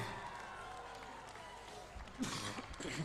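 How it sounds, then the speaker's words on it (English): Outdoor crowd at an Independence Day parade applauding as a parachute jumper lands behind the parade, a steady broad wash of clapping and crowd noise that swells louder near the end. "An applause for this jumper."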